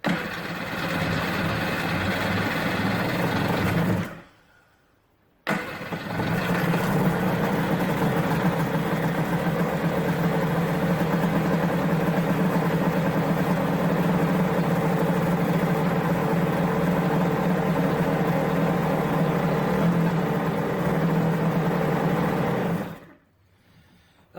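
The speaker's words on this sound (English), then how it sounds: "It's idling a little high, but it's not in the water, so that's perfectly fine." A stand-up jet ski engine, assembled from mixed used parts, idles somewhat high while out of the water, a loud steady drone close by, cutting out briefly once and stopping at the end.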